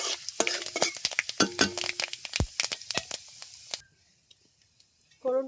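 Panch phoron and bay leaves crackle and spit in hot oil with rapid sharp pops for several seconds, then the sound drops to near quiet with only faint crackles.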